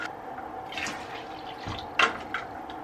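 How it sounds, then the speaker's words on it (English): A cup of vinegar is poured into a basin of dye water, a short liquid splash and trickle with a few drips, fairly faint and close, with no talking. "then I'm gonna add my cup of vinegar"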